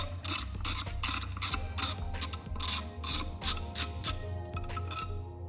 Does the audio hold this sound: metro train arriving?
no